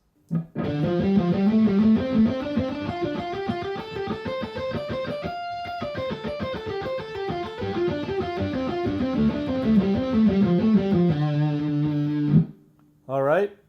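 An electric guitar with a distorted tone plays a fast, steady pentatonic scale run of single notes, climbing in groups of three and descending in groups of four, ending with a sustained chord.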